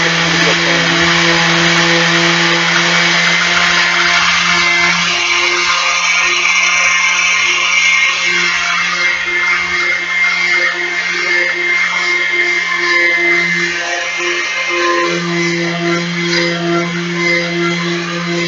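A power sander works wood for a chess board, giving a steady whirring drone with a constant hum and gritty rasp that holds at an even level, close and continuous, with no speech.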